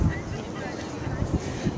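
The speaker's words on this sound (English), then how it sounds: "Because it is kind of windy out here" Outdoor wind at an Earth Day rally in Des Moines blows steadily and roughly across the microphone in a loud, continuous rumble.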